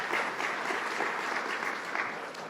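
Steady applause from an audience, dense clapping that holds throughout and fades slightly at the end.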